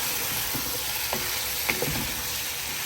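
Garlic, onion and pork sizzle and fry in a pot over lowered heat, a steady close hiss with a few faint scrapes and clicks from a spoon.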